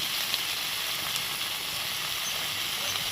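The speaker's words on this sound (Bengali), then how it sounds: "পেঁয়াজ আর টমেটোটা ভালো মতন ভেজে নিতে হবে" Onion and tomato fry in a pan with a continuous, even sizzle and hiss, moderately loud and unbroken for the whole stretch.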